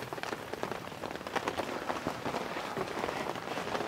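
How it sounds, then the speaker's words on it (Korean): Steady rain drumming on a camping tarp, a dense, even patter of drops close overhead with no voices. "이렇게 비 오는 날 타프 밑에서 이렇게 빗소리 들으면서 있으면 진짜 좋긴 좋은가 보네"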